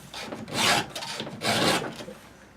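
A chainsaw chain is sharpened by hand with a file, two drawn-out rasping strokes scraping against the metal cutters, close and fairly loud, with short quieter pauses between them and no talking.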